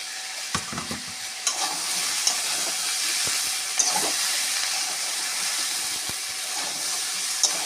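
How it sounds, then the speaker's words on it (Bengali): Continuous sizzling and hissing from mixed vegetables and soybean chunks frying in a pan, punctuated by scattered clinks and scrapes of stirring, with no talking. "সবজিটা ভাজা ভাজা হয়ে এসেছে"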